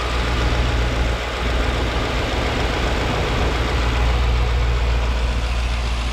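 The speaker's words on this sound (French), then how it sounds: "je vais vous montrer son bloc moteur. Vous allez voir, bon, c'est le V8 biturbo" Mercedes-AMG GT63S with a 639-horsepower direct-injection V8 biturbo engine idling, a steady, dense, low rumble that holds close and even throughout.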